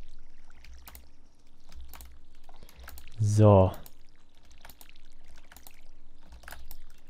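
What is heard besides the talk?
watering crops in Stardew Valley video game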